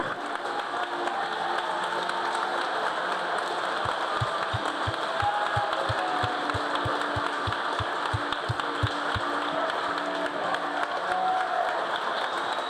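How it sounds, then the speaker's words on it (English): A crowd at the Lancashire County Swimming Championships applauds the Swim Lancashire team, sustained clapping in a large echoing pool hall, with a run of rhythmic thumps partway through. "a big round of applause for your Swim Lancashire team for 2022"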